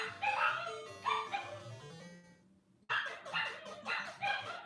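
A dog barks in short, sharp yips, several in a row, with a brief whimper and a pause before another run of barks.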